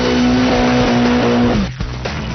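A Mitsubishi Lancer Evolution races through a compression turn on a track, its engine roaring loud and close with a steady high note that drops as the car shifts or lifts, tires faintly squealing underneath.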